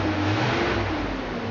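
A 1971 Corvette with a 454ci V8 runs at a steady idle, a dense, close engine drone with no talk.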